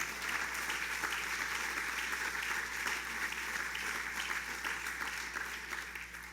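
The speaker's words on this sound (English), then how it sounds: "Give him a round of applause anyway." An outdoor crowd at a New York summer tourism event in the Catskills gives a steady round of applause, a sustained, even wash of clapping with no talk over it.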